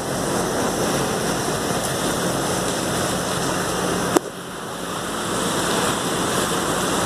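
Sewage water rushes steadily over a flooded road and into a mosque, a continuous broad wash of flowing water with one brief sharp knock partway through.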